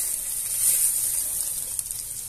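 Rice dropped into a pan of toasted golden garlic gives a steady, moderate sizzling hiss that swells briefly and then settles, with no talking over it.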